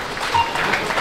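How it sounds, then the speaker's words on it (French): Brief burst of audience applause for race car drivers at an RC car racing event, about one second of steady clapping that stays fairly loud throughout. "Je pense qu'on peut les applaudir très très fort."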